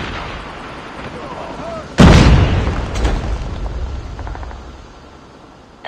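A frag grenade blows up in a video game war match: one sudden heavy boom followed by a long rumbling decay that slowly fades under faint background game noise.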